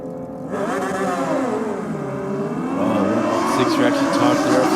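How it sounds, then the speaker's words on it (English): A drag racing motorcycle roars down the strip at a night race meeting at Sydney Dragway, and its engine note climbs and bounces hard off the rev limiter at the shift. The motorcycle is loud and continuous, and faint background voices may be present. "Sound like one of those bikes bashing the limiter pretty hard at the shift"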